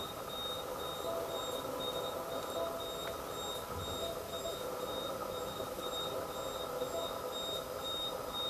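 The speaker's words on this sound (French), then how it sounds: "Voilà le truc qui sonne." A faint electronic alarm in an abandoned hospital beeps in a steady, evenly spaced pattern over a low background rumble, with no talking.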